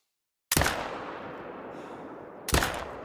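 Two sharp rifle shots ring out two seconds apart at a blacktail buck outdoors, each a loud crack followed by a long fading echo.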